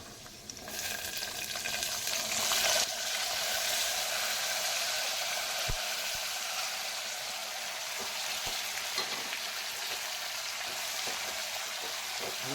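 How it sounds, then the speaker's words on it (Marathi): Mixed vegetables frying in hot oil with cashews for masale bhat, a loud, continuous close sizzle that settles to a steadier hiss, with a few soft knocks of a spoon against the pan. "मस्तपैकी या तेलात फ्राय करून घ्या."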